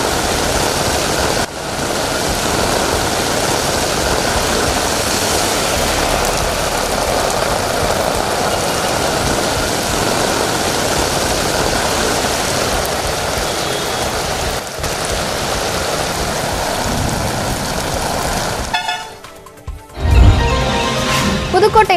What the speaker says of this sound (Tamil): இதனால் சாலைகளில் வெள்ளநீர் பெருக்கெடுத்து ஓடியது.